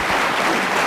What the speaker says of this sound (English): Applause for game ball.